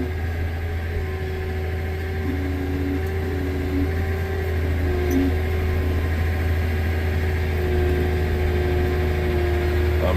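A tractor engine idles in a steady low rumble while easing through a narrow overhead barn gateway, with faint intermittent tones over the continuous drone.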